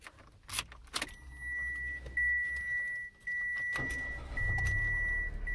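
A 2021 Mitsubishi Mirage's warning chimes and clicks, then its 1.2-liter three-cylinder engine cranks and starts, settling into a steady low idle that continues to the end.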